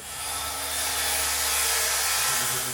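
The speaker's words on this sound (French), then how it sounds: "Ça, c'est une circulaire." A circular saw whines steadily and loudly throughout, a continuous high-pitched motor drone with no talking.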